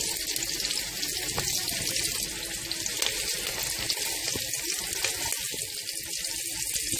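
Onion slices with peppers sizzle in a pan over medium heat, a steady dense hiss full of tiny crackles and pops that continues without pause.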